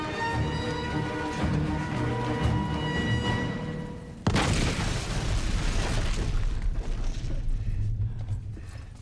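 A sudden heavy blast cuts into light music partway through, its broad roaring rumble holding loud for several seconds before easing off at the end.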